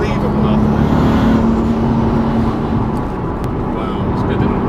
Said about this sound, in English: the noises that come out of this car